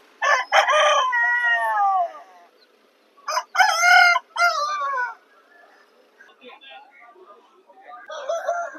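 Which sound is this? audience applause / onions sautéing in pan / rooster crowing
rooster crowing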